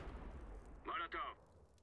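A Molotov thrown in Counter-Strike: Global Offensive on the Inferno map during a competitive match gives a short, bright whooshing burst in two quick surges, standing out briefly above a low, steady game background.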